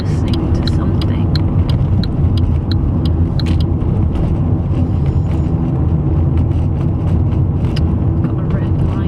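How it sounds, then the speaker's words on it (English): Inside a moving car, a steady engine and road rumble fills the cabin with constant low noise, broken by small clicks and rattles, and a soft voice speaks over it. "I think the sounds of the car are very relaxing"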